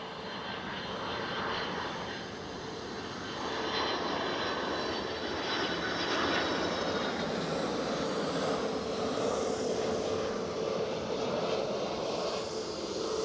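A Boeing 767 airliner at Edinburgh airport sends out a broad, sustained jet-engine roar at a moderate distance, swelling slightly partway through and holding steady to the end.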